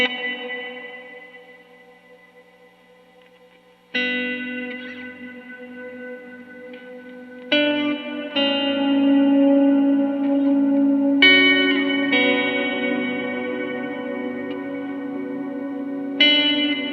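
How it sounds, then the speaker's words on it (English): An electric guitar runs through a reverb pedal with a second reverb in its effects loop, sounding as sustained chords that ring out in long, washy tails, struck again every few seconds and swelling loud. "let's see what it's like to put a reverb into the effects loop of a reverb."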